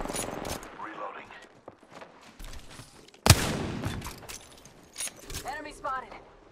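Video game gunfire in a tense multiplayer round: scattered shots and one sharp, loud blast near the middle, mixed with footsteps and game noise while a player talks throughout.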